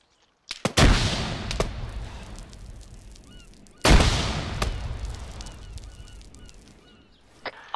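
Two loud, close blasts from a grenade and gunfire in a military video game, each a sharp crack that decays slowly over a few seconds, about three seconds apart.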